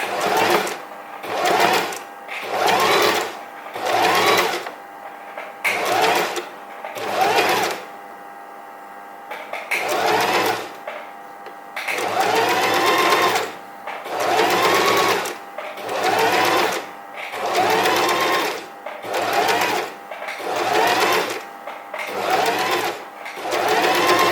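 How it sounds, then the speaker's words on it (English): A sewing machine stitching a decorative pattern on fabric runs in a series of loud, rapid mechanical bursts of a few seconds each, separated by short pauses and one longer gap. "So I'm going to sew a decorative stitch because I'm decorating this piece of fabric to make an item"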